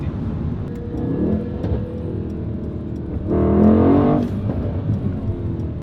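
A 2019/2020 Mercedes-AMG E63 S sedan accelerating hard, its engine and exhaust heard from inside as a steady loud drone that swells into a deeper surge midway, with no talking.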